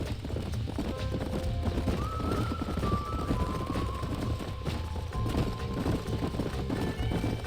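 Horses clip-clop steadily in a Red Dead Redemption ranch scene, hooves thudding close and continuous while a horse neighs with a rising whinny partway through, over a dense outdoor game soundscape.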